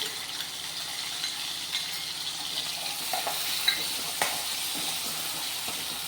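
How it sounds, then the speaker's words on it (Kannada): Ground tomato paste from two medium tomatoes sizzles in a pan for chilli chicken, with a steady frying hiss and occasional scrapes and taps of a stirring spoon. "ಇದನ್ನು ನೀಟಾಗಿ ಇದನ್ನು ಫ್ರೈ ಮಾಡ್ಕೊಳ್ಳೋಣ ಇದ್ರ ಜೊತೆಗೆ"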